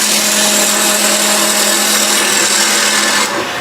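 A woodturning chisel cuts wood on a lathe while shaping a toffee dish, giving a loud, continuous, steady shearing whir close by that eases off slightly at the very end, with no talk.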